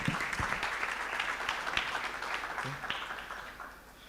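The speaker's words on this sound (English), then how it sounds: "Please a round of applause for him." Applause from an audience after a talk on the main stage at a university conference, heard as a short, fairly quiet burst of clapping that fades toward the end.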